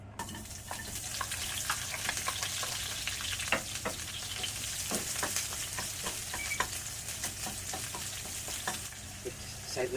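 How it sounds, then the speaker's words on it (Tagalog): Onion and garlic sauté in hot oil in a Filipino kitchen, a continuous sizzle and crackle broken by scraping stirs and occasional sharp pops, fairly close and without talk. "At maglagay ulit tayo ng mantika para sa ginisa natin ng sibuyas,"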